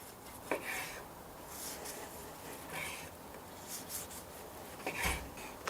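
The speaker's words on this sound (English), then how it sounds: "cutting the meat. Nice thin slices." A knife slices cooked tenderloin into thin pieces, making soft, rhythmic rasping strokes close by over a low, steady background.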